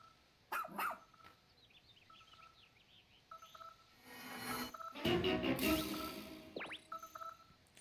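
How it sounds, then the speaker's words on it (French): Rescue dog barks in the video game Pikmin 4, short electronic yaps and chirpy tones spread over a quiet game soundtrack, with a louder burst near the end. "Vous avez retrouvé Otine, le chien sauveteur de l'équipe de secours."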